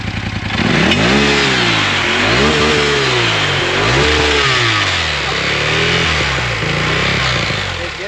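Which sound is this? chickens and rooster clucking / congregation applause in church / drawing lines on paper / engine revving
engine revving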